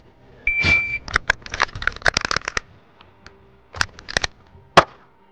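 A shot timer gives a short electronic beep at the start of a pistol drill clearing a double-feed malfunction. Quick bursts of sharp metallic clacks and bangs from working the gun follow, then a final loud crack.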